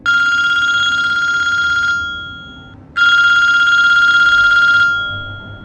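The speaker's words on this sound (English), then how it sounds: "his cell phone started ringing again" A phone rings loudly with two long electronic trilling bursts separated by a short pause, each ring fading slightly as it ends.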